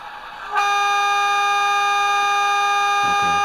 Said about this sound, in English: I'm going to test the two horns, so I think for the first horn I'd advise you to cover your ears.